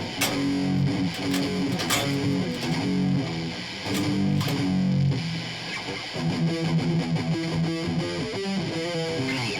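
Distorted metal electric guitar tones from the music game Rocksmith+, heavy chugging riffs with sharp attacks in loud phrases separated by short gaps, played alone with no talking.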